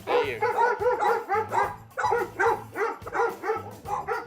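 An excited dog barks and yips rapidly and loudly up close in a fast, nearly continuous run, with whiny tones mixed into the barks.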